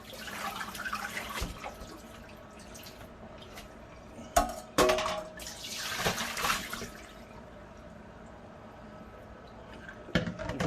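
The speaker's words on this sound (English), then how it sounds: "Drain the potatoes." Boiled potatoes being drained in a kitchen, a gush and splash of water poured out with pot clatter, followed by dripping and quieter trickling, close by with no voices.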